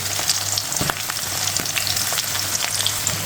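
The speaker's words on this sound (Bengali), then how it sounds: "এরপরে আমি সব কিছু নেড়ে চেড়ে বাদামি হওয়া পর্যন্ত ভেজে নিব।" Onion, green chili, bay leaf and crushed whole-head garlic fry in oil over a medium flame for masoor dal, giving a steady, close sizzle with faint stirring clinks throughout.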